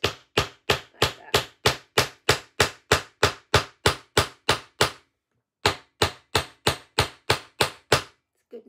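A hammer forges a metal wirework pendant, striking in a fast, even rhythm of about two blows per second. The loud, sharp impacts come close up, with a brief pause before the strikes resume.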